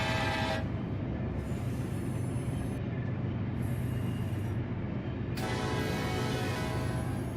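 A K5LA train horn in the Run 8 train simulator game, long sustained blasts sounding in a rhythm of short breaks over steady locomotive rumble, loud and close.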